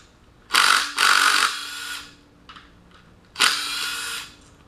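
Power tool spinning out the oil pan bolt on a 2006 Honda Civic engine during disassembly: three sharp whirring bursts close by, the last after a short pause, with faint clicks in between.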